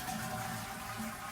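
A toilet flushing in a workers' living unit on a farm, a close, continuous rush and gurgle of water with no voices.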